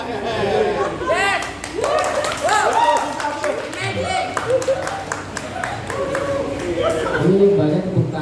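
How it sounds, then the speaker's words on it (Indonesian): Audience clapping at a small live jazz performance, scattered applause under chatter and people talking close by, rising and falling rather than building to a roar. "Ini banyak tepuk tangan, makasih."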